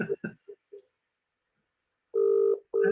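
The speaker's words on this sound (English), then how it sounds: "Did he pick up the phone? Nah, still ringing." A telephone rings in two long electronic bursts separated by a short pause, clear and steady, with a few brief voice sounds just before the first ring.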